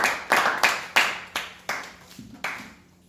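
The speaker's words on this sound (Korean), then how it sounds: "우리 박수로 축하합시다" Small-group clapping at a church youth gathering celebrating birthdays, about eight distinct rhythmic bursts of claps, each swelling and decaying, close and fairly quiet.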